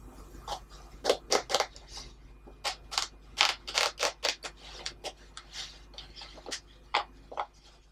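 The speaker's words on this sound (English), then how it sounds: "seam ripper" A seam ripper works through the stitching on a pair of pants, giving a series of short, crisp snips and ticks in uneven bursts, close and fairly quiet, with no talking.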